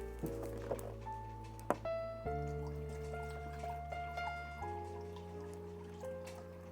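Water is poured into flour for homemade French baguette dough, a soft trickle and drip of liquid running steadily for several seconds beneath a continuous low background hum.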